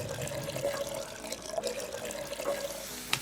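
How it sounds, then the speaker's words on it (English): Water pours in a continuous, faint stream with a steady splashing hiss and a brief bright splash near the end. "what I wanted to show you for sure was this water pouring"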